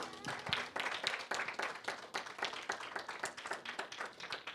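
A church congregation claps together after a prayer, a fairly faint and sustained patter of many hands with some distinct individual claps and murmuring voices.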